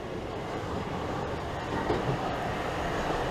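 A train departs Grove Park station toward Charing Cross, a steady, fairly loud rumble of rolling wheels on rails.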